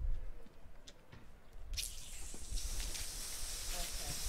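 A fire extinguisher is turned on at the spigot and sprays water through its hard line, a sudden loud hissing rush that starts after a quiet moment and continues steadily, with faint drips before it.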